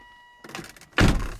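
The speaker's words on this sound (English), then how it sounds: "Driver's door, do I lock and unlock? And now it's locked." A car's driver door lock gives a soft mechanical thunk, then a louder solid clunk a half second later, close up in a quiet interior.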